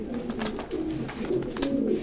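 Racing pigeons coo in a flock, low rolling calls repeating and overlapping close by, with no voices.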